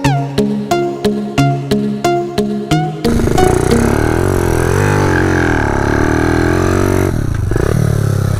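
A Kawasaki KLX 110L dirt bike fitted with a 143cc big bore kit and race head, not rejetted, revs loudly and steadily up close after a few sharp blips, its engine pitch rising and falling.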